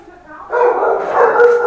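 A dog gives a burst of loud, close barks and yips that start about halfway through, running together rapidly, following a quieter stretch.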